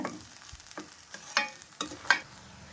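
Country coriander sautéing in a pan for pickle makes a soft, close sizzle with a few distinct scrapes and taps of the stirring spoon.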